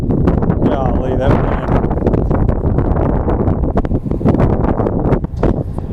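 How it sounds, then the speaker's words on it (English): Strong wind gusting across a lake, roaring and buffeting close at the microphone throughout, with a voice talking underneath. "wind is something else."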